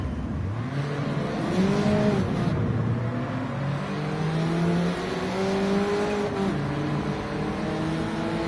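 Citroën DS3 Racing car in Gran Turismo 7: a loud, continuous engine note that climbs and falls through gear changes, heard up close and steady with no talking.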